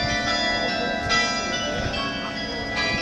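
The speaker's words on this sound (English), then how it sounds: "and the bells are chiming." Church bells ringing at one o'clock in Haugesund, Norway, heard outdoors near a bus stop, with sustained, overlapping metallic tones ringing loudly and steadily throughout.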